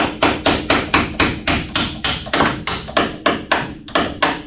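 Steady hammering with a wrench or pliers during a 1972 Chevelle SS engine install, about fifteen sharp, loud strikes in a regular rhythm, each ringing briefly before the next blow.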